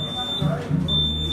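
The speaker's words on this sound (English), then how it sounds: "some dumbass set off the fire alarm" A college dormitory fire alarm sounds as a high, steady electronic tone, dropping out briefly in the middle and then returning, while people talk loudly nearby.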